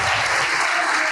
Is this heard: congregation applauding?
yes